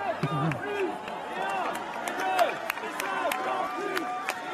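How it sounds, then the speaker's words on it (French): A large crowd at Emmanuel Macron's re-election rally chants in a repeating rhythm under cheering and noise, with a voice talking over it throughout. "Et la foule qui scande et 1, et 2, et 50 plus"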